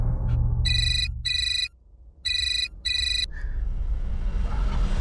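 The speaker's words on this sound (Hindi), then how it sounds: "एक फोन है।" A telephone rings with bright electronic tones in four evenly spaced bursts, two close pairs separated by a short silence, heard clearly over a low background hum indoors.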